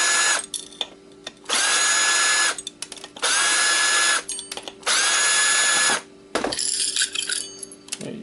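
A power screwdriver backing screws out of an Xbox hard drive, several whirring bursts of a second or so each separated by short pauses and faint clicks, close and fairly loud with no talking.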